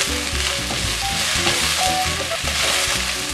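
Cabbage tossed into hot oil with frying garlic and ginger gives a steady, loud sizzle with stirring clatter throughout, alone with no talk.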